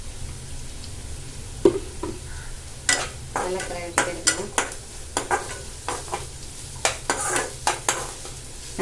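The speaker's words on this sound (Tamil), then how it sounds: "நல்லா கொஞ்சம் செவக்க வதக்கும்" Green chillies sautéing in a hot pan: steady sizzling under repeated close scrapes and clinks of a spoon stirring against the metal pan.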